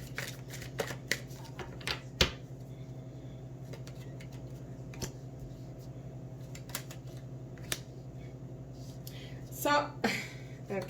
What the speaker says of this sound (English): Cards popped out, so I'm going to keep shuffling